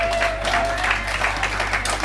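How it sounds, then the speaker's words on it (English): Wedding reception guests give a round of applause for the MC, a brief, dense burst of many hands clapping close by with faint crowd murmur mixed in. "give James a massive round of applause tonight"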